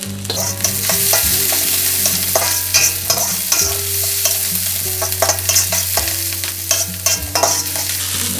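Fresh curry leaves fry and crackle in hot oil while being stirred in a pan, with a steady close sizzle broken by clinks and scrapes of the spoon.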